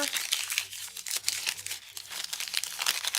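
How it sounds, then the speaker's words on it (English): Brown paper being twisted into a pumpkin stem gives a steady, close crinkling and crunching, with light rustles running through the whole stretch. "And then you just start twisting the paper."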